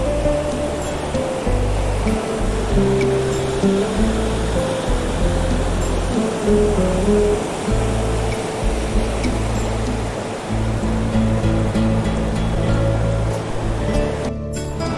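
Indreni (Rainbow) waterfall near Darjeeling roars as water rushes down over rocks in the forest, a loud, steady, close, unbroken wash of white noise throughout, with no talking.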